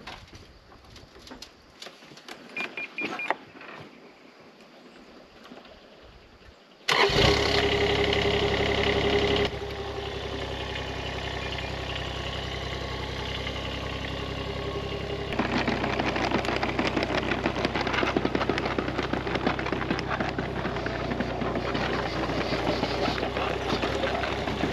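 A digger's diesel engine cranks and roars into life at a Portuguese homestead after birds and pigeons cooing, then settles into a loud, steady idle as it warms up.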